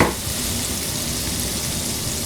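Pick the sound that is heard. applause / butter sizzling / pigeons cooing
butter sizzling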